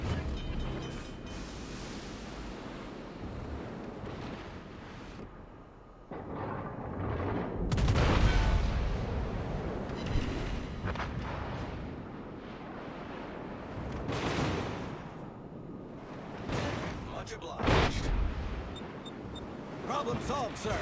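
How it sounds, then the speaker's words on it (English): Enemy warships fire naval guns at the player's ship in a naval video game. Heavy booming salvos and explosions land in irregular bursts over a constant rumble of battle noise. "the Nurnberg, the Baron, all are shooting me"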